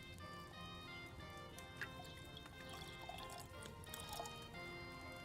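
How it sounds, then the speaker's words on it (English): Liquid poured in Kingdom Come: Deliverance 2, faint trickling and dripping over a quiet background, with soft irregular splashes scattered through the pour. "Pour it in."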